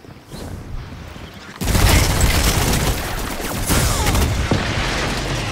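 Hand cannon gunfire from a Destiny 2 Crucible match, a loud burst of shots and impacts that swells abruptly and keeps up a dense, continuous barrage of combat noise.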